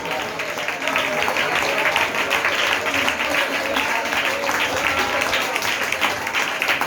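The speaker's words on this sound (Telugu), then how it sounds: "ఒకసారి చప్పట్లు కొట్టి ప్రభువుని మహిమపరచు." Church congregation clapping to glorify the Lord, a steady, fairly loud wash of many hands applauding together throughout, with faint voices mixed in.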